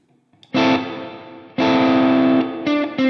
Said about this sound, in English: So as soon as I hit that note, it's kind of drenched in reverb.